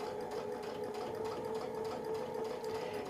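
A sewing machine runs steadily and continuously, stitching a brick-pattern fill on a quilt guided by a ruler template, with a constant mechanical hum and no talking.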